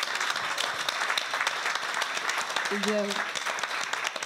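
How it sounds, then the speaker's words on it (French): An audience at an evening event applauds steadily for the school staff who did makeup and hair, with a brief tonal sound midway and a voice speaking briefly over the clapping. "On peut même les applaudir"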